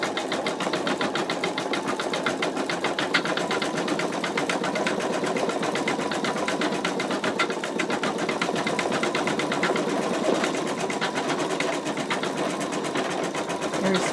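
An embroidery machine stitches out an in-the-hoop wallet, a steady, fast, needle-driven whir and rapid clatter running continuously at even loudness from start to finish, close up with no talk.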